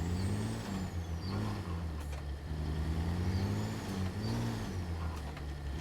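Diesel truck engine from a video game engine mod pack (Cat C15, Cat 3406B, Detroit Diesel 60 series, Cummins N14) rumbles steadily at low pitch while driving, with a faint rising turbo spool whistle above it.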